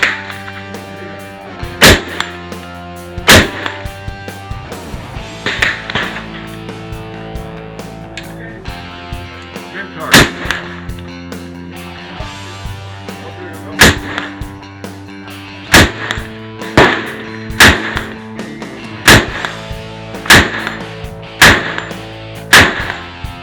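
Roughneck Firearms RF15 rifle firing at a target 200 meters away: a string of loud, sharp shots spaced a few seconds apart, each with a ringing tail, across the whole stretch.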